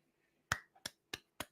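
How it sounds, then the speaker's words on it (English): Four sharp, close hand claps by a lone person watching an Islanders vs Blues hockey game, spaced unevenly in a quiet room with nothing else audible. "I'm clapping at Pulak and at Hofer because I'm a fan of goalies no matter what team."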